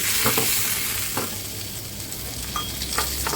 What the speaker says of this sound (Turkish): Şöyle yarım yemek kaşığı kadar tereyağını ekledim.